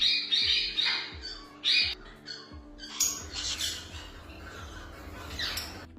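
Parrots at a bird farm stocking African greys, ringnecks, cockatiels and lovebirds squawk loudly in sharp repeated bursts, with harsh calls piling up nearby and a mix of chirps behind them.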